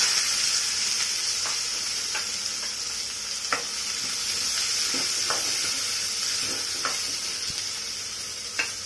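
Onions fry in hot oil in a kadai for prawn 65 gravy, giving a continuous loud hissing sizzle with occasional light spatula taps and scrapes, heard up close and without speech.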